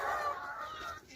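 Chickens on an African homestead in the Garden Route near Cape Town cluck and chatter in a busy overlapping flock, a fairly close, continuous sound with no talk over it.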